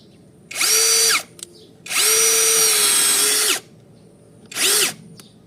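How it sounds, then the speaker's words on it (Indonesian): An APR AP34+ cordless impact drill bores into soft wood in three close, loud bursts: a short run, a longer sustained whine, then a brief final spin, each rising and falling with the motor speed. "Kita coba lagi tes 2 kali ngebor ini"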